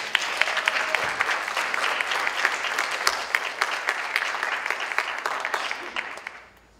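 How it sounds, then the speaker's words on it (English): Audience applause fills a room during an alumni panel at a college communications day event, a dense, steady wash of clapping from many hands that carries on for several seconds before tapering off at the end. "A round of applause."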